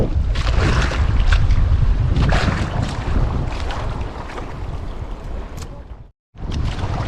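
Strong wind buffets the microphone in rumbling gusts over the sound of water and a boat at sea during the amihan monsoon, cutting out briefly near the end.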